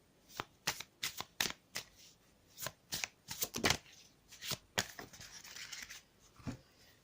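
A deck of oracle cards being shuffled by hand, quick crisp riffling bursts and flicks in irregular clusters, close and quiet with no voices.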